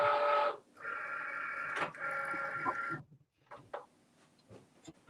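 A cutting machine slicing glitter cardstock, a steady mechanical whir that runs in two long passes with a click between, then stops and gives way to small clicks and handling noises.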